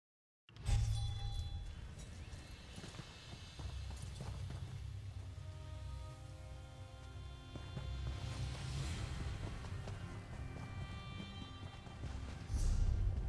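Horse hooves clip-clop in The Elder Scrolls Online, heard in a steady, close run that plays at a continuous, fairly loud level with game sounds layered over it and no talk.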